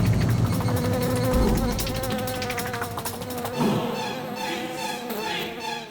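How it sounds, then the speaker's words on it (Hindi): A housefly buzzes close by in a jail scene, its drone wavering in pitch as it circles, loud and steady for several seconds. "कोई मक्खी देखी तो डर गया?"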